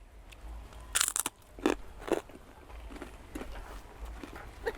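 Several sharp crunchy bites on crisp grilled fish, close to the mic, with brief pauses between them against a quiet background.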